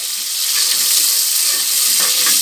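Sliced onions and green chillies fry loudly in a pot for chicken cooker biryani, a dense, continuous close sizzle with no pauses.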